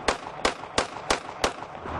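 Handgun fired five times at a steady pace during concealed-carry practice, each shot a sharp, loud crack with a brief tail, with no talking between them.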